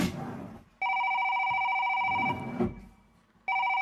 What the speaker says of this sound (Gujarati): એટલે તલાટીનો ફોન છે.